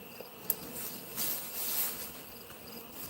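Honeybees on a farm apiary buzz around hive frames as they are readied for moving, a soft, steady insect drone with faint brief clicks and no talk.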